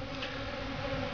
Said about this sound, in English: There's bees flying all over the place.